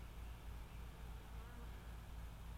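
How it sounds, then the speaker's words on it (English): Swarm of bees buzzing around a spot as more arrive, a faint, continuous, even drone with no voices over it. "there is definitely a lot of bees. I mean, a lot of bees swarming around it"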